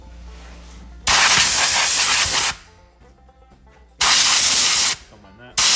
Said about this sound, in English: Now I want to turn on the compressor and build enough pressure to hopefully start leaking from all of it